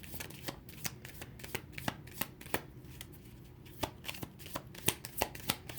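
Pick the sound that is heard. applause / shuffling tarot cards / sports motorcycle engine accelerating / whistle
shuffling tarot cards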